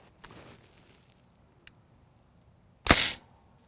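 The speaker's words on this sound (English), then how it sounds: "go ahead and dry fire, get used to the trigger" A rifle at a shooting range is dry fired: a faint trigger click early on, a tiny tick later, then one sharp, loud metallic snap of the bolt or action near the end, alone in quiet surroundings.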